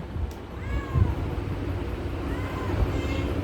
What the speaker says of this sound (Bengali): চলো ফকিরা বিড়াল, আসো